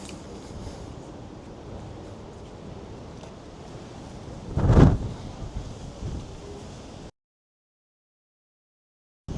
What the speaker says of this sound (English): Oh, my hat is getting ready to just blow off my head. That's how windy it is.